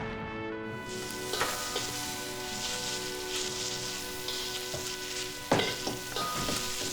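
A dish is stir-fried in a wok, with a continuous sizzle under tonal background music and a few sharp scraping clanks of the spatula against the pan near the start and toward the end.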